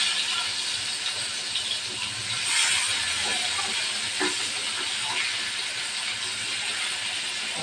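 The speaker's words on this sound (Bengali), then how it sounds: "সরিষার তেল তেল গরম হয়ে গেছে দিয়ে দেবো মাছ" Fish fries in hot mustard oil with a loud, steady sizzling hiss and fine crackling that continue unbroken the whole time, close by, with occasional sharper pops and no speech.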